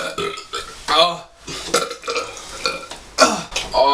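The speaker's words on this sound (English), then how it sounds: "I don't think I can burp anymore." Loud, drawn-out burps during a burping challenge, several forceful belches in quick succession with no one speaking between them.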